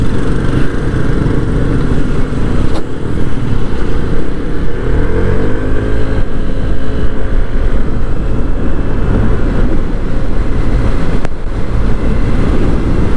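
A Honda Vario 160 scooter being ridden, with a steady loud engine drone and wind noise heard close up from the rider's position, the engine pitch rising and falling gently.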